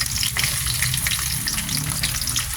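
Chopped onions sizzle steadily in a generous amount of hot oil in a pan, a loud, continuous frying hiss with no pauses and no voices.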